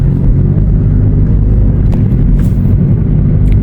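Steady low engine and road rumble from inside a car driving smoothly along a road, continuous and fairly loud, with no talking.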